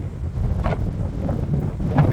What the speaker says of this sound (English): That was a crazy fast, just gust of wind.